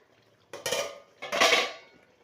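Two metallic clanks as a lid is set onto a pot of chicken and potato curry on the stove, a short scrape and clatter followed by a second louder clang, close and distinct.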